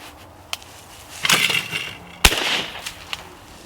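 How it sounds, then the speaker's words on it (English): A shotgun fires at a clay target launched from a clay thrower during a waterfowl-hunting outing, one sharp loud outdoor blast standing out amid a few softer clicks and rustles. "got a string attached to my clay thrower to my leg, and I'm trying to pull the clays for me, and then shoot it"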